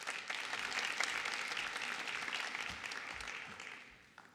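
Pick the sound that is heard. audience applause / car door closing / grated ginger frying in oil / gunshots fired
audience applause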